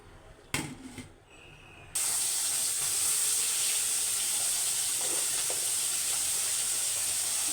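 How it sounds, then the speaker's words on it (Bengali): Fish being lightly fried in a pan for a fish and vegetable curry: a brief clatter, then a loud, steady hiss of sizzling oil from about two seconds on, close by. "একটু হালকা করে ভেজে নিচ্ছি মাছগুলো উপর দিয়ে।"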